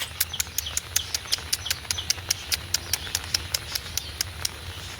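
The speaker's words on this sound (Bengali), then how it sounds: "ডাক পাখির বাচ্চা কতগুলো" Small birds chirp in a rapid, steady series of sharp peeps, close and evenly spaced, over a low background hum.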